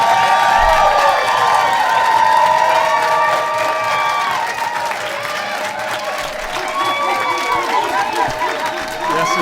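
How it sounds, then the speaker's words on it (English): A large crowd claps, stomps and cheers to encourage a group of children, the noise loud and sustained with whoops and shouted voices riding over the clapping throughout. "I need for you to, for the next 20 seconds, clap your hands, stomp your feet,"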